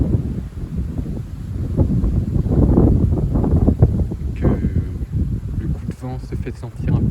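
Strong gusts from storm Darragh roar and buffet against the microphone around a fir tree, a dense continuous rumble swelling and easing, with faint rustling and a brief higher tone near the end.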